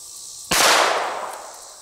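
A single sharp crack from a Ruger LCR revolver firing a 40-grain .22 Long Rifle bullet at a kettlebell, an abrupt loud report followed by a decaying ring and outdoor wash.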